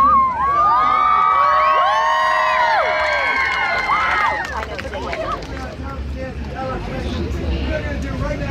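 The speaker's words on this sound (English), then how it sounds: "There's a huge crowd around us." A large crowd in Central Park cheers and shouts: loud overlapping whoops and high children's cries rise together, then thin into a busy babble of voices and scattered yells.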